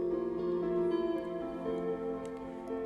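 Four layered guitar parts, including a counter melody and a picking drone, blend into one soft, steady sustained texture at a low level, with no voices.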